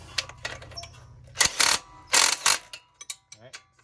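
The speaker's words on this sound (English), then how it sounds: "Got my impact driver here. I'm gonna screw this down in a little bit." An impact driver drives a bolt during a front spring install on a Subaru Crosstrek with Rallitek springs, giving a few loud, short hammering bursts after some lighter ratcheting clicks.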